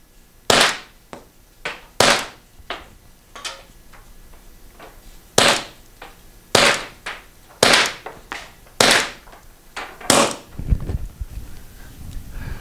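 A Pepperball TCP launcher fires about a dozen sharp, loud pneumatic cracks at uneven intervals, some single and some in quick pairs, each with a short decay, close by and with no talking.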